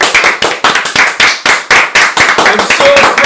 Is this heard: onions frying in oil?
no